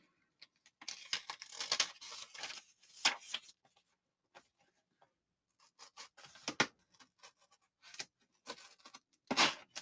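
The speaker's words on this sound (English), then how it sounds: "then we're going to rip out 3" Paper pages are ripped out of a handmade journal close by, in several crisp tearing bursts of varying length separated by near silence, with no voices.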